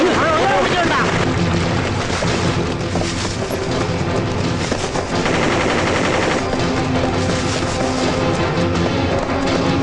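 Sustained, dense machine-gun fire crackles without pause for about ten seconds, loud and close, with shouting voices mixed into the barrage.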